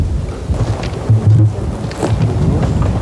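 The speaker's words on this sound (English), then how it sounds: "Even the rain, falling on the background tent, was ignored as the crew pressed on" Rain patters steadily on a tent during an outdoor film shoot, a dense continuous wash of drops with low rumbling gusts, and no talk.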